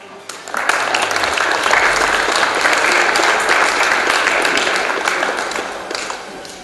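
Audience at an e-sports award ceremony bursts into steady applause that holds at full strength for several seconds, a broad wash of clapping hands filling the hall.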